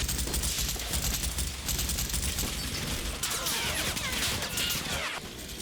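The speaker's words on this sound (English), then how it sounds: "they're intercepted by small arms fire from 3rd Platoon inside the gasworks" Small arms fire in the Combat Mission Final Blitzkrieg video game, a continuous crackle of overlapping rifle and machine-gun shots at a moderate distance, fairly quiet and steady throughout.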